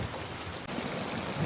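Heavy rain pours steadily at night in a film scene, a dense, loud, unbroken wash of hiss with a low rumble underneath and a brief dip midway.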